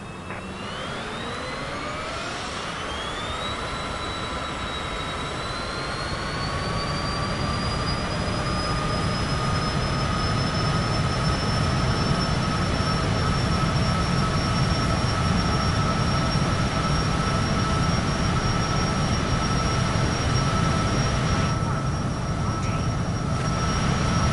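Airliner takeoff roll in Microsoft Flight Simulator 2024: steady loud jet engine roar with rising whine tones as the engines spool up, then sustained thrust noise and rumble continuing throughout without talk.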